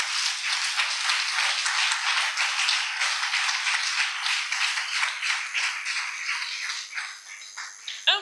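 A church congregation applauds at a worship service in acclaim of the Lord, a dense, sustained roll of many hands clapping close by and loud, thinning slightly toward the end with a few scattered claps.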